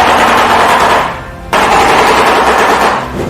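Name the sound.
shoebill call sounding like machine-gun fire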